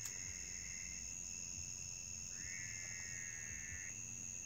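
Crickets and frogs sing at night by a lake, with steady high-pitched insect trilling, a longer chirping trill and low croaks forming a continuous outdoor chorus.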